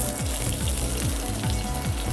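Onions fry in hot coconut oil with popped mustard seeds, giving a brief, steady, close sizzle without voices.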